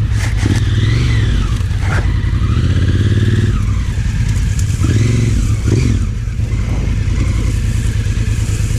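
A loud, close motorcycle engine revs and accelerates in surges, rising and falling in pitch, with some scraping and clatter, no talking.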